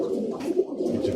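Birmingham Roller pigeon cooing up close, a soft, low, rolling murmur that pulses steadily through the moment with no pause.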